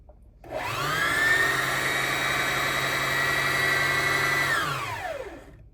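A Singer Heavy Duty 4411 sewing machine whirs up, runs at a steady high-pitched hum for several seconds, then winds down; close and fairly loud, no talking.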